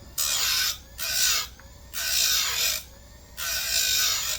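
A small handheld sharpener files a chainsaw chain for a Husqvarna 357XP, giving four raspy strokes in a steady back-and-forth rhythm, close and fairly loud, with short pauses between strokes.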